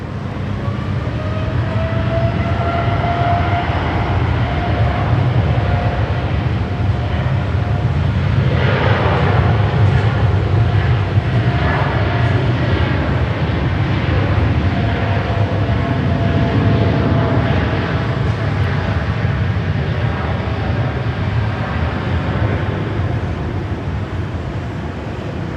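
A Boeing 787 Dreamliner departing Sydney Airport, a sustained heavy jet roar with a low rumble and shifting engine tones across nearly half a minute, loud and steady, no voices.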